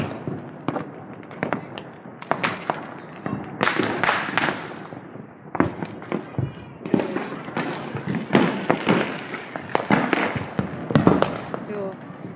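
Diwali firecrackers and fireworks crack and boom all around, a dense run of sharp close bangs, double and triple blasts and rocket whooshes at irregular intervals, with people talking in between.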